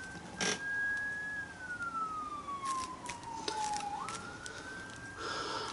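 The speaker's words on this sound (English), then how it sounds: "There goes another ambulance." An ambulance siren wails steadily as it passes by, its tone sliding gradually lower then rising back up, with a few brief knocks and thumps scattered over the background.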